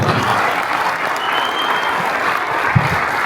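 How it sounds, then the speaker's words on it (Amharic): Dense, continuous applause from an audience at an Ethiopian film premiere ceremony, loud and even throughout, with a few louder claps standing out near the end. "ጭብጨባው ደግሞ ከፍ ያለው"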